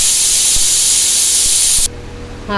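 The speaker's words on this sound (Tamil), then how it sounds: "Cooker whistle அடிச்சுட்டுருக்கு." A pressure cooker whistle lets out a loud, steady hiss of escaping steam that cuts off abruptly, leaving a quieter background with a faint tone.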